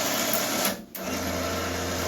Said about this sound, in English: Then I'm just going to use my 3-point or my winch and just winch up.